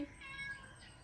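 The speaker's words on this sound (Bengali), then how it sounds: "সারাদিন ম্যাও ম্যাও করাই তোর কাজ" A pet cat gives one short, soft meow indoors, close but faint, with nothing else around it.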